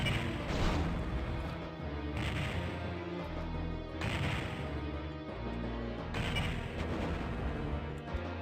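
Explosions and blasts in the Star Wars Dark Forces game, several heavy booming crashes in quick succession over about eight seconds, loud and dense without speech.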